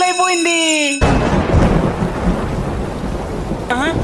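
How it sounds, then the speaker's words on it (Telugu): Sudden rain shower with thunder during a comic skit as school lets out, a loud rumbling crash and steady rain wash after a short tonal musical passage, with a brief tonal sound returning near the end. "వర్షం ఏంటి ఇప్పుడు పడుతుంది?"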